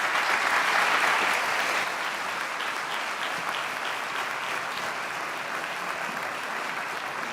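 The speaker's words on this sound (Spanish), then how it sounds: "Un aplauso para ellos." Applause from the audience at a tourism promotion campaign presentation, strongest at the start and then settling into steady, moderately loud clapping from many hands for several seconds.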